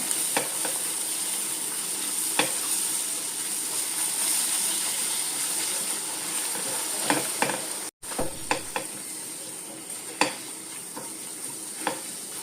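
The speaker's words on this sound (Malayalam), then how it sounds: "ഇതുപോലെ നല്ലോണം ചിക്കി തോർത്തിയെടുക്കും മുട്ട നല്ലോണം ഒന്ന് വേകട്ടെ" Eggs are stirred and scrambled in a hot pan for an egg and tapioca dish: a continuous, close sizzling hiss broken by sharp spatula scrapes and taps at irregular intervals, with one brief cut near the end.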